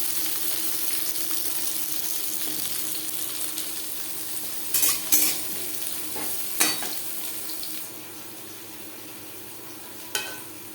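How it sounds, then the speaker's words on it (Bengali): Papaya and mixed vegetables sizzle steadily in refined oil in a wok, a continuous close frying hiss broken by a few brief utensil clinks and stirring scrapes, with no talking. "ডাল সেদ্ধ হতে হতে অন্য একটি কড়াইতে আমি সবজি ভেজে নেব"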